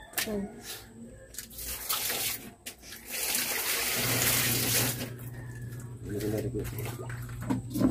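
Tap water runs steadily into a bucket at an outdoor spot, a continuous splashing pour beneath nearby talk, with a low steady hum joining in partway through.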